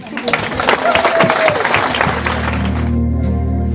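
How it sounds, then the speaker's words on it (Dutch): Audience applause at a dance club's graduation evening, a burst of clapping with scattered voices that fades after two seconds into a low steady hum. "ik wil graag een hartelijk applaus voor onze eigen Joop Huisman"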